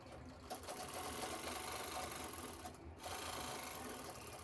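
Sewing machine stitching a piping strip onto a fabric shopping bag, a continuous close mechanical whir of the running needle throughout, with one brief break.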